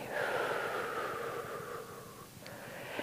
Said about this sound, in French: bloquez la respiration et soufflez